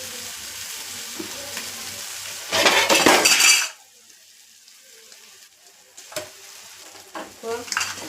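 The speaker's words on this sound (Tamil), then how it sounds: "நூடுல்ஸை போட்டு இப்போ கிண்டி விட்டுருவோம்" Noodles fry in a hot pan, a loud burst of sizzling and stirring rising briefly, then dropping to quieter scrapes and utensil clinks against the pan.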